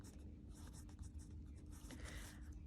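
Pen or pencil writing numbers for a maths array, faint continuous scratchy strokes close by under a steady low background hum, no voices.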